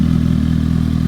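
A Suzuki GSX-S750 motorcycle fitted with an Akrapovic GP Series exhaust idles loud and close, a steady throbbing burble with a fast even pulse.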